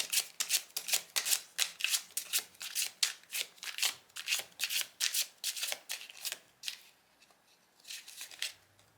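Tarot cards shuffled by hand in rapid repeated riffles, a dense run of crisp papery flutters that pauses briefly near the end and then resumes, with no talking.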